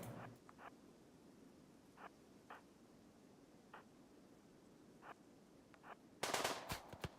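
Sparse, faint gunshots in the sci-fi colony game Rimworld: Odyssey, a handful of short pops spaced irregularly over quiet background noise, then a louder, denser burst of rapid shots near the end.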